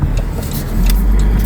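A car passing by fast on a road, a loud close rush of engine and tyre noise that swells toward the end, with no talk over it.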